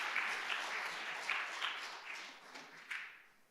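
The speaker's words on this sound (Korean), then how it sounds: "우리 박수 한번 칠까요?" A church congregation claps together during an early-morning special prayer service, a fairly soft, steady round of applause with a few louder swells, heard alone without talk.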